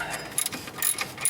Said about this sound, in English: let's see if we can get these little bolts out of here.